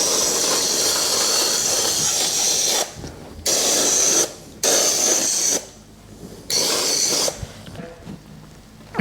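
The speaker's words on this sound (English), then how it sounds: "Also try to spray off some of this dust on the bottom." A garden hose, its nozzle turned down to a gentle flow, sprays dust off the bottom of a dehumidifier during a yearly cleaning. The close, steady hiss stops and starts several times in short bursts, with no voices.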